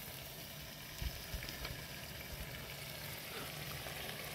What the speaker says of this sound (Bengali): মাংস রান্না চলছে